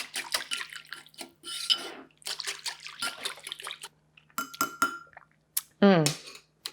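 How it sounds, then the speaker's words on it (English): Keto pad thai sauce is whisked in a bowl, producing quick bursts of scraping and clinking with short pauses, ending in a sharper ring of utensil against the bowl. "And you whisk this all up."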